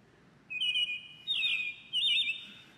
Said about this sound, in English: It's actually a robin captured in Apple Park.